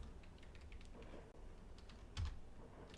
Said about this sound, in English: I just type in curve